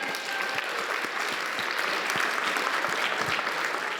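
Steady applause from a crowd, dense clapping that fills the whole stretch at an even, fairly loud level.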